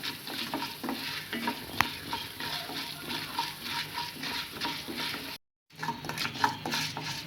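Urad dal roasting in a pan over a low flame, with steady rhythmic stirring scrapes and a soft sizzle, close by and without talk, briefly cut to silence before the stirring resumes.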